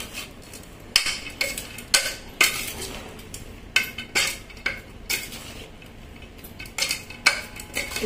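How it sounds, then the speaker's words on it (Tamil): Metal spoon scraping and clinking against a pan while banana flower kootu is stirred, with irregular knocks and scrapes roughly every second, close and clear with no talking. "எல்லாம் கொஞ்சம் ஒன்று மிக்ஸ் பண்ணி விட்டுடுங்க."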